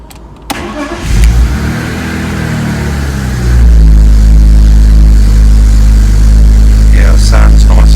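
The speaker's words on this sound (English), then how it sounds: "We're going to start the engine because I want to hear it from cold." A 1997 BMW M3 E36 Evo convertible's 3.2-litre engine cranks from cold and catches, then settles into a loud, steady idle with some revving, heard up close.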